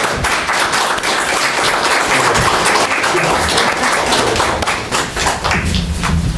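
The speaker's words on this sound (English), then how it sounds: "let's give them a round of applause" Applause from the audience at a town board meeting honoring soldiers and residents, a dense, steady wash of clapping that stays loud throughout with a few heavier thumps mixed in.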